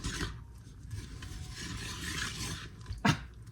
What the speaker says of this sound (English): give it a good mix with the dough whisk until it forms a nice shaggy dough